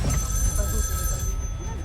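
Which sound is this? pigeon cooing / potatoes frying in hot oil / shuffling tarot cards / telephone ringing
telephone ringing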